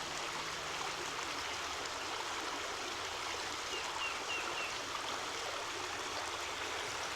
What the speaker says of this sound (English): We could hear this water running last night.